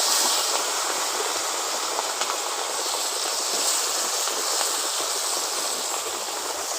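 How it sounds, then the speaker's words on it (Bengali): Fish fry in hot mustard oil in a wok, giving a steady, dense sizzling hiss that stays loud and unbroken throughout, with no talking. "মাছগুলো দিয়ে ভালো করে ভেজে নেব।"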